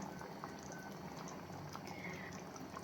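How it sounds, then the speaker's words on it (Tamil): Liquid boiling in a pot while cooking prawn thokku, a steady close bubbling and gurgling with small pops, continuous with no voices. "கொதிக்க ஆரம்பிச்சிட்டு பாருங்கள்"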